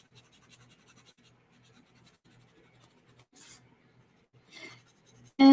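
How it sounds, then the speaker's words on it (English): Pen or marker coloring in a shape on paper, a soft, close, faint scratching with short strokes and gentle rubbing, a couple of louder scribble bursts, and a bright tone at the very end. "and I can color it in"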